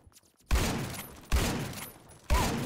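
MP5 SG gunfire in a video game, heard as three separate loud bursts of shooting, each cutting in sharply and then trailing off, with quiet gaps between them.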